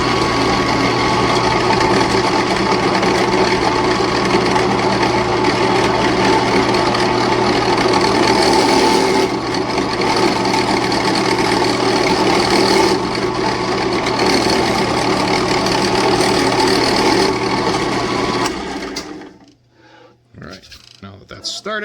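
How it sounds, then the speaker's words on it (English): A steady, loud machine whine of a drill press drilling with a centering bit runs continuously, cutting off near the end into quieter sounds and a brief pause. "I'm going to use my centering bit on the drill press"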